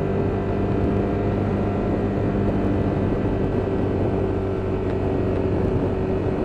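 A Ducati Monster 1200 motorcycle engine bogs and labours below 5,000 RPM, a steady low, rough drone that holds at moderate loudness without clear revving, with no voices over it.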